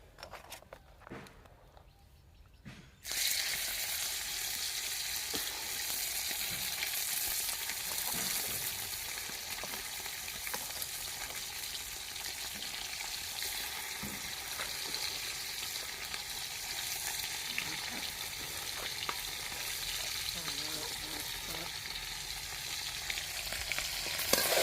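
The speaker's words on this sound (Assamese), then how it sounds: "এতিয়া মই মাংসখিনি ভালকৈ ভাজি ল'ম।" Meat frying in hot oil, pork cooked in an Assamese home kitchen, with a steady loud sizzle starting after a quiet few seconds, plus faint stirring and occasional clatter throughout.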